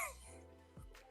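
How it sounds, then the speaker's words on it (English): A short cough or throat clearing from a person, heard close and fairly quiet, ending in a sharper burst after a brief low rumble. "I'm coughing like this all the time."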